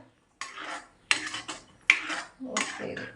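A spoon stirs a buttermilk-and-banana curry in a pot, making four separate bursts of scraping and clinking against the pot's sides, close and fairly loud, with short pauses between strokes.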